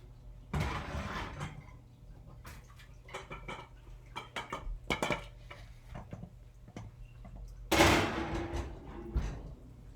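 A metal tin of oven-baked eggs comes out of an oven, with scattered clanks and knocks of metal, the thud of an oven door and a sharp clatter near the end.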